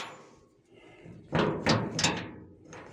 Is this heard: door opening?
yes